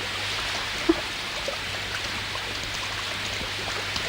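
Steady rain pours down in a Tamil film scene, a constant even hiss of falling water with a faint drip or tap near the start, and no voices over it.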